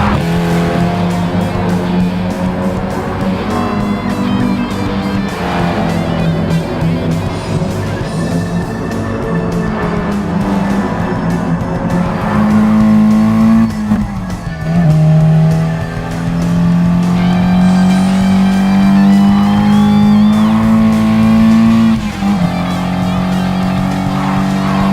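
A Porsche 356 GT Carrera Speedster races in GT Sport, its engine loud and close, revving up and down through gear changes with tire squeal mixed in, continuous throughout.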